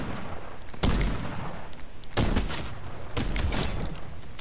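Gunfire in a video game shooter: three loud, sharp blasts spaced about a second apart, each with a short rumbling tail over a steady background din.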